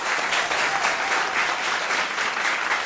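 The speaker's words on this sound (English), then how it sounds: "A round of applause for them, please." Audience applause for a school quiz team at a junior quiz contest, dense and even clapping from a crowd that holds steady at moderate loudness throughout.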